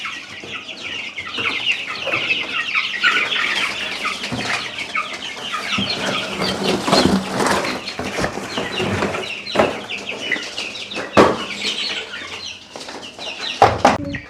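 A flock of about twenty freshly bought country hens clucks and calls continuously at close range, with occasional louder squawks and brief bursts of wing flapping.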